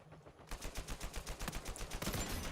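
Rapid gunfire from an online multiplayer match in the video game Uncharted 4, a dense burst of repeated shots beginning half a second in and continuing steadily to the end, fairly quiet overall with no talk.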